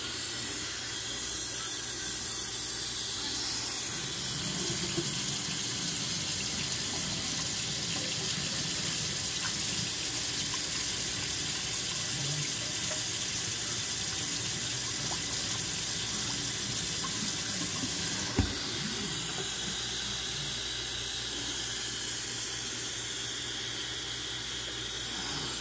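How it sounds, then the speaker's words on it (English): Cold tap water pours steadily over blanched cabbage in a kitchen sink, a continuous hissing splash that stays close and even for the whole stretch, with one brief clunk near the end. "I'm just going to pour some cold water over there."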